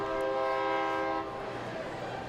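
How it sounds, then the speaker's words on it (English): A passing train sounds a long, loud steady horn blast from beyond a ballpark wall, then the horn cuts off, leaving a rumbling rail clatter and distant crowd murmur. "Now we got to revisit the 7:39 special coming down the tracks out beyond the wall here at the box. Honking to send everybody a hello."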